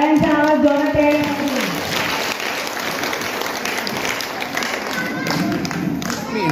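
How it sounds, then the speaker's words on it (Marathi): Audience applause at a Shiv Sena women's rally, with loud dense clapping running throughout and voices and crowd talk mixed in beneath it. "टाळ्यांचा आवाज जोरात यायला."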